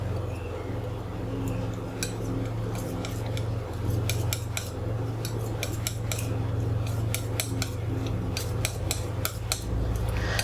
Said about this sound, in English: I'll first mix a little bit more paint